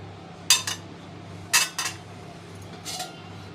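A lid set onto a cooking pot in a home kitchen while a white dish simmers without turmeric, giving three short metallic clinks and rattles spaced about a second apart over a faint low hum.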